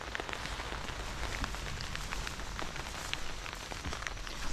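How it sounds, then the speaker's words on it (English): Rain falls on a tarp shelter in the mountains during a tropical storm. The patter is steady and dense, with scattered sharper drop hits over an even hiss and no voices. "the rain has picked up some. It's coming down just a little heavier than it was before."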